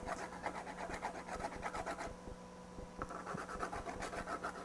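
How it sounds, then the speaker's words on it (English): A lead jig head is rubbed by hand over sticky dual-action sander sandpaper inside a candy tin, giving close, steady scratchy rasping strokes in a quick repeating rhythm. "I just have this just candy tin with some DA sandpaper on there, some dual action sander, sticky sandpaper, and then I just take it,"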